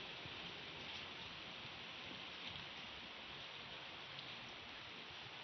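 Rain falls steadily as a dense, even hiss of drops on surfaces, soft and constant with no voices or other sounds.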